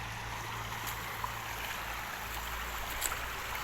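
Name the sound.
shallow river stream flowing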